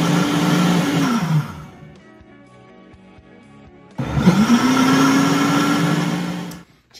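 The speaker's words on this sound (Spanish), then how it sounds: "aquí ya tengo la alfalfa, jugo de 6 limones y poquita azúcar. Y ahorita lo que voy a hacer es que voy a moler todo esto" A kitchen blender roars loudly as it grinds alfalfa with the juice of six lemons and a little sugar, running in two bursts separated by a quieter pause, its motor pitch sliding as the load shifts, with no talking.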